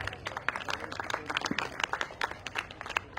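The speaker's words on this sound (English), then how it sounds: "with a huge round of applause" An audience at a panel discussion at the Kolkata Literary Carnival gives moderate, steady applause. Many hands clap in quick, overlapping patters that keep a fairly even level, with no speech.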